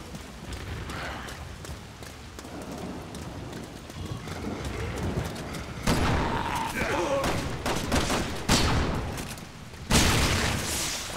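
Gunfire in the video game Resident Evil 6, with a few sharp, loud shots and booms standing out against ongoing game noise and rumble.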